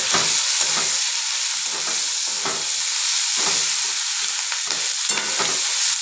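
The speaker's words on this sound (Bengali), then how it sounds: "এবার কোচানো পেঁয়াজগুলো দিয়ে দিচ্ছি।" Sliced onions fry in hot oil with whole garam masala while a spoon stirs them in the pan, a steady close sizzle broken by repeated scraping strokes, with no talking.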